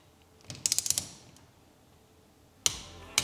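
A torque wrench set to 5.5 tightens a carburettor bowl: a quick run of sharp mechanical clicks, then two more isolated snaps a couple of seconds later, close and crisp against a quiet room.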